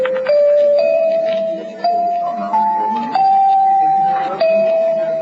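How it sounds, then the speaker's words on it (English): A set of chimes ringing in an old-time radio drama, a clear sequence of sustained bell-like tones stepping up and down in pitch, each struck note ringing out and fading before the next, loud and close. "Wonder how much these chimes are."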